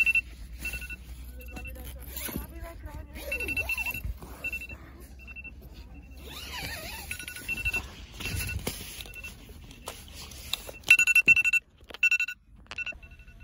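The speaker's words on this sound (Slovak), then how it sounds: "A to ide odtiaľ to budík." A repeating electronic alarm clock rings inside a tent at a music festival after rain, its high beeping tones recurring steadily through the clip under nearby talking and rustling of gear being dried.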